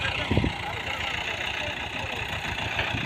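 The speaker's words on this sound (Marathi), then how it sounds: "आता ट्रॅक्टर चालू केला बारका जिओ. महिंद्रा बी चालू झालाय" A small Mahindra Jivo 245 farm tractor engine runs steadily at idle nearby, a continuous mid-low rumble with a brief louder knock near the start.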